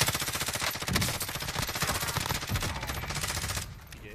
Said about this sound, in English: They're getting shot by somebody else.